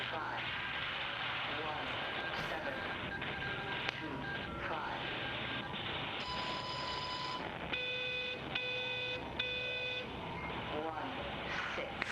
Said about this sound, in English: There was like a weird beep and then 3 beeps.